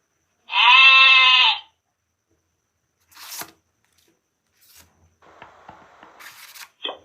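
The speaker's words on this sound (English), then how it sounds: "Goat." A single loud goat bleat near the start, followed by quiet rustling and faint scattered clicks.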